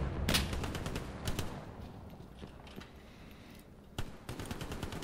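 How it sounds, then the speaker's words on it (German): Machine gun fire in the World War II shooter Hell Let Loose, at El Alamein, comes in distant rattling bursts with a short loud volley near the start and sharper single cracks later, over quiet ambience with no talk. "Diese MG nervt mich ab, ey."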